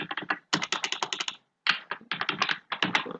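Rapid computer keyboard typing in three close bursts of quick, crisp key clicks separated by brief pauses, with no talking.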